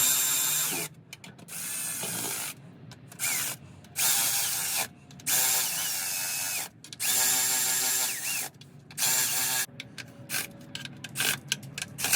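A power tool runs lug nuts up on a car wheel, loud close whirring bursts of about a second each, separated by short silences, with ratcheting clicks near the end.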